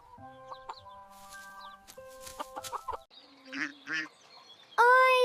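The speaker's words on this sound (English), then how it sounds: "This is a duck." A duck at a zoo calls out among other fowl: scattered honks and clucks, then a loud, close, harsh quacking burst at the end, with no talking.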